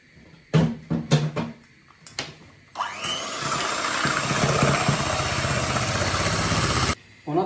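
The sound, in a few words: electric mixer whipping egg whites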